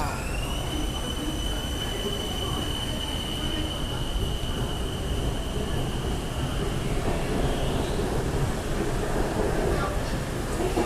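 Continuous rumbling of a BTS Skytrain in motion on the Sukhumvit Line in Bangkok, with a steady high whine that fades partway through, loud and close throughout.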